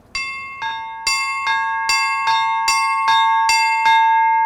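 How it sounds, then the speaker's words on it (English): Two small Orthodox church bells struck one after another by rope in a quick, steady rhythm, each ring clear and close, overlapping as the tones hang and sustain. "to make these two bells ring"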